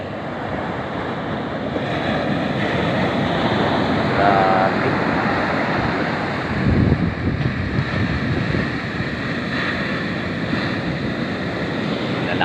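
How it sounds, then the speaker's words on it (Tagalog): Large ocean waves roll and crash continuously onshore, a broad steady roar of surf mixed with wind buffeting the microphone, with one heavier surge partway through. "Lalaki ng alon."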